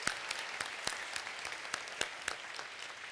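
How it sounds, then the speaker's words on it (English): Audience applause at a university social work spring commencement ceremony, a steady dense wash of clapping with a few sharper claps standing out, moderately loud and without speech. "let's give her another round of applause"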